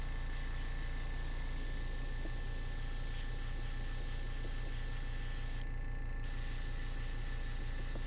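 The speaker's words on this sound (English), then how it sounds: "Just empty airbrush to dry it." An airbrush is emptied by spraying it dry, giving a short burst of airy spray near the end. The burst sits over a constant close hum and hiss that fills the whole stretch.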